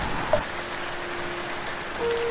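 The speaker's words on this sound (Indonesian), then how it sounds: "angin kencang bertiup diselangi hujan yang renyai-renyai" Light drizzling rain hisses steadily, with a broad rushing wash that may carry strong wind, continuous and even with no voices.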